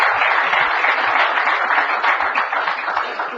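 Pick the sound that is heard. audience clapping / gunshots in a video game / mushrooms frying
audience clapping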